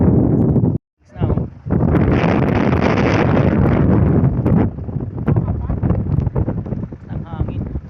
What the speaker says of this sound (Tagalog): Ang hangin pag dito talaga sa taas